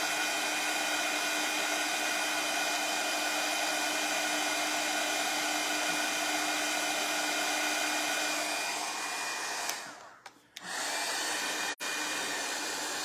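A hair dryer blows steadily at close range while drying a DIY home sign, a loud continuous whooshing hum that dips and cuts out briefly near the end before resuming, with no talking.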